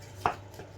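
A knife slices a Scotch egg in half on a board, one single short soft cut over a quiet room hum.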